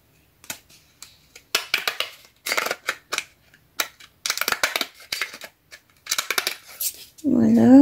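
Repeated crisp snipping and crunching of decorative-edge scissors cutting through card, in short bursts with pauses, close up, ending with a louder rustle.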